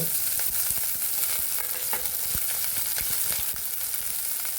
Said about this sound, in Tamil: பச்சை மிளகா நல்லா வதக்கி விட்டுக்கோங்க